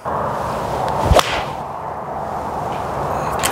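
A single sharp swish and crisp strike of a blade golf iron hitting the ball slightly low on the face, over a steady outdoor background.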